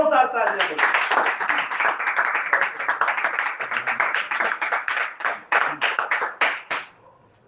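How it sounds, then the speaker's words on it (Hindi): A church congregation gives a loud, sustained round of clapping during a sermon; dense, close applause runs throughout before thinning into a few scattered claps and trailing off at the end. "अपने लिए एक बार जोरदार तालियां"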